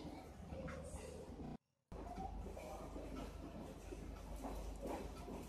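Denuwara Menike express train running on rails at speed, a steady broadband rumble with a brief dropout near the start, then continuous clattering and hissing for the rest.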